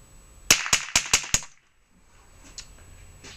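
An air gun firing pellets in five quick, evenly spaced sharp cracks over about a second, loud and close, followed by quiet with faint noise.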